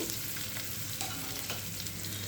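Ingredients for a kalmi greens fry sizzle steadily in a hot pan, with occasional scraping of a spatula stirring them, no voices.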